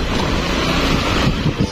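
Waves washing against a riverside or seashore, a steady broadband roar with soft rolling surges, heavy wind buffeting the microphone throughout and no voices.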